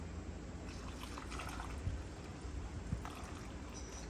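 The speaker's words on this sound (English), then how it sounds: "we're going to start pouring in our brand new coolant" Fresh coolant pouring into the radiator of a 2007 Kia Spectra, a steady low liquid trickle and gurgle with a couple of soft knocks, fairly quiet and continuous, with no talking.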